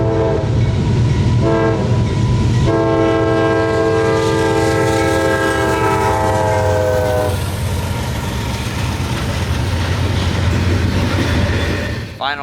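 An evening southbound intermodal freight train carrying UPS traffic rolls past in Wildwood with a loud, sustained horn blast, followed by the steady rumble and clatter of railcars continuing by.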